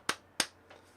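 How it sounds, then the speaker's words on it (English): Two light, sharp hand claps close by, quick and evenly spaced, with a fainter third tap trailing after in an otherwise quiet room. "I'm gonna do a slight clap just so I also don't break your ears."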